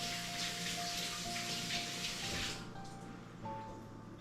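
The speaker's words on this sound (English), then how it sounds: "Let me rinse my hands just real quick here." Kitchen tap running steadily as hands are rinsed, a soft broadband rush of water that cuts off partway, leaving a quieter room with a faint hum.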